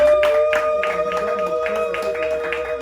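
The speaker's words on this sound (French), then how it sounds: "de vous accueillir avec des milolo, beaucoup de milolo et des applaudissements" Audience applause fills a hall at a membership ceremony, a steady patter of clapping hands with a sustained tonal drone running underneath, fairly loud and continuous.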